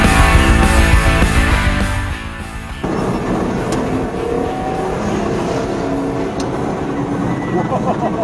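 A race car rips through turns at speed, a loud, close engine roar with shifting pitch and a sharp change partway through, while a constant rumble of wind and road noise fills the background.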